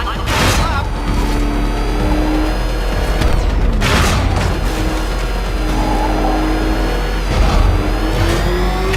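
The Batmobile races in Batman Arkham Knight on PS4 with a loud, roaring engine, broken by several heavy booming crashes that punch through the continuous drone.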